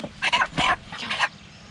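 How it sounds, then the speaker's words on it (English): A small chicken lets out a few short, close clucks in quick succession near chicken processing equipment, with faint background noise between the calls. "That's a tiny little chicken."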